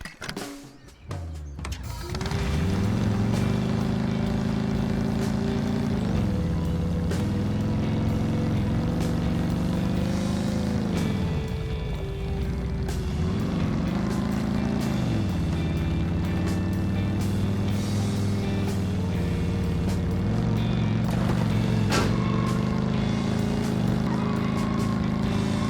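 Motorbike ridden in the Rust video game, a steady loud engine drone that rises and falls in pitch as it revs and shifts, running almost continuously with no talk.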